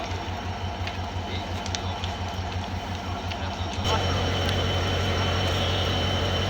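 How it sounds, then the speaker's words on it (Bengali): A long passenger train bound for Mymensingh from Dhaka rumbles past on a sunny day, a loud continuous roar that grows heavier partway through. "বিশাল লম্বা ট্রেনটি।"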